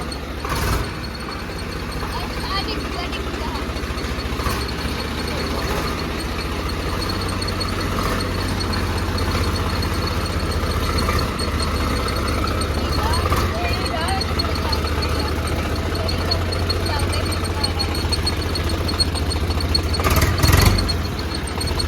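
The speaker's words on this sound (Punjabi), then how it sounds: "ਲਓ ਵੀ ਮਿੱਤਰੋ ਟਰੈਕਟਰ ਸਟਾਰਟ ਹੋ ਗਿਆ" A farm tractor's engine runs steadily after starting, a low continuous rumble throughout with occasional clanks and a voice talking over it.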